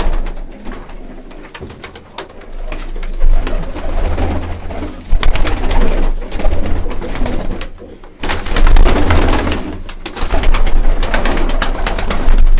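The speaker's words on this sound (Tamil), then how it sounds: "எல்லா புறா எல்லாம் பயப்படுதா?" Pigeons cooing inside a farm loft, among them Lahore pigeons, with a dense, continuous murmur of many birds close by and fluttering bursts rising and falling throughout.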